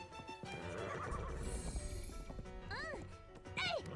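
Horse in the video game Relics of the Past neighs in rising, whinnying bursts near the end, after clip-clopping hooves earlier, with a player's voice talking alongside.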